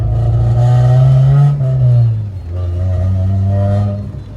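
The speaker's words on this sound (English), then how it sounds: "We're gonna give you guys a little bit of in-car drive, so you guys can hear the exhaust." A Honda EG hatchback with a new exhaust setup is heard from inside the car while driving: a loud, steady engine drone that holds, dips as if between gears, then climbs again, with no talk.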